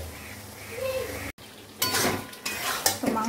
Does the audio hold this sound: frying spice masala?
yes